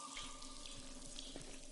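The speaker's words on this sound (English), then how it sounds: "Sounds like water running." Steady water running from a tap in a game setting, a continuous hissing flow at moderate level with no talk over it.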